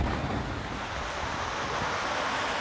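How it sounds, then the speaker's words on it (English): Ocean surf rolling in along the shore at Montego Bay, Jamaica, a steady broadband wash of breaking waves with some wind rumble, continuous and fairly loud with no talking. "Look at the ocean, man."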